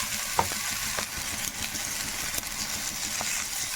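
Gongura paste frying in hot oil for pulihora sizzles and crackles steadily as it is stirred, a dense, continuous frying hiss with occasional scraping of the spoon against the pan, with no voices over it.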